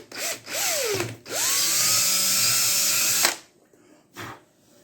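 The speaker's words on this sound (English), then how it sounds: "It says to drill a 5/16 hole. So what we're going to do is start with 1/8." A power drill whines in short bursts, spinning up and bogging down as it bites into a plastic truck bumper, with a longer steady run in the middle.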